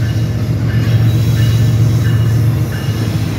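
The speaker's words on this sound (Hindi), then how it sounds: "ये मेरे ख्याल से खैबर मेल ट्रेन है" The Khyber Mail train rolls through Dera Nawab Sahib railway station in Pakistan, a loud, steady, close rumble of engine and wheels with faint squealing above it.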